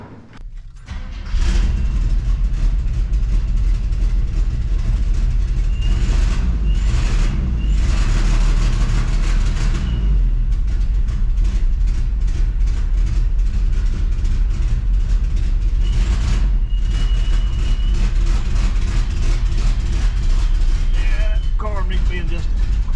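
An old Chevy with a carburetor that needs adjusting runs loud and steady during a drive after a brief quiet start, its low engine rumble continuous with cabin rattles and road noise.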